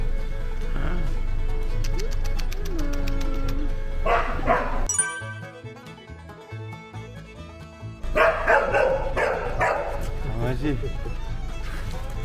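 A golden retriever puppy barks and yips while being bathed, its sharp calls mixed with people talking and other background sound, with a quieter stretch in the middle.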